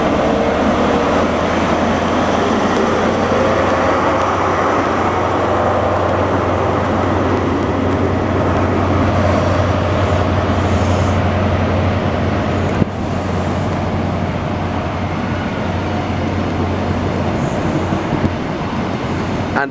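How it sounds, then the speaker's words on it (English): A Virgin Trains East Coast train passes through a station, a loud, steady rumble with low drone holding for most of the stretch before easing slightly, no speech over it. "And passing through, we've got another Virgin Trains East Coast service."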